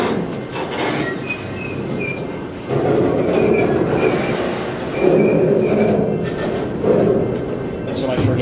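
A heavy freight train rumbles and clanks as it starts up at a station, slack running in with loud jolting bangs of couplings and a faint metallic squeal, close by.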